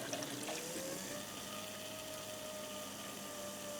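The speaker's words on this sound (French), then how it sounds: "Donc tu as la pompe, donc là elle aspire de ce côté-là." Small water pump running in a circuit and drawing water in on one side, with air bubbles in the line, gives a steady, even whir and watery rush at moderate level throughout, with a faint rising tone partway through.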